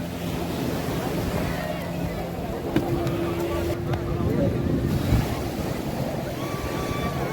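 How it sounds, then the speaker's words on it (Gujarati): Sea waves wash and surge around a boat at Shivrajpur beach near Dwarka as wind buffets the microphone, a steady rushing roar with occasional knocks and a faint voice in the background. "આપણે આવી ગયા છીએ હવે બોટ રાઇડિંગમાં"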